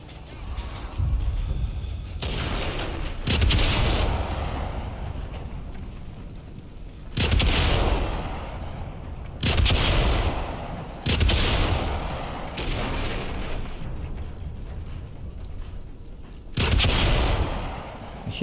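Repeated heavy gunfire bursts in Sniper Elite 5, loud booming shots about every two to three seconds, each trailing into a long rumbling echo, with little talk.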